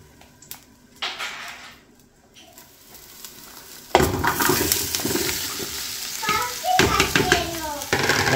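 Garlic crackling and sizzling in hot oil with onion added, a loud steady fry with stirring clatter, quieter at first then swelling, with a voice speaking briefly over it.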